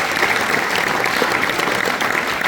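An evening contest crowd at a motorcycle adventure festival claps warmly for the first woman contestant, a full, continuous burst of applause filling the room at close range, steady throughout with no talking on top.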